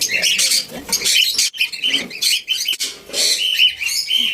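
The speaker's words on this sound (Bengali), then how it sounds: "আমার পাখিদেরকে আমি প্রতিদিন সকালে নাস্তাটা এইভাবেই সাজাই" Small pet birds chirp and squawk rapidly and continuously at close range during their morning feeding, a dense, high-pitched chatter with only brief pauses.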